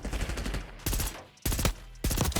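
Bursts of automatic gunfire from an AEK-973 rifle in the Black Ops 6 video game, loud rapid fire in three separate bursts with short gaps between them.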